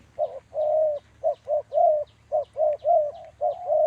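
Dove cooing at a Thai dove cooing contest: a steady run of short, rounded coos repeating in quick phrases, clear and fairly close, with a faint low hum underneath and no talking.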